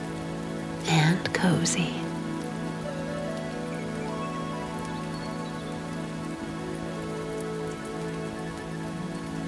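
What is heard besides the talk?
rain falling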